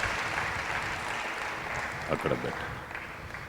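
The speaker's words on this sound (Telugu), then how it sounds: "కాబట్టి గట్టిగా చప్పట్లు కొడదాం." Audience applause at a pastors' meeting, a steady, dense wash of clapping filling the whole stretch, with a voice speaking briefly over it.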